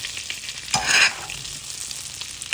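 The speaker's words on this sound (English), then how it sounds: "Now get your saute pan really hot with a little bit of olive oil and lay that skin side down." Snapper fillet searing skin side down in a hot saute pan with olive oil and chili butter, a soft steady sizzle broken by one louder burst of spattering and stirring.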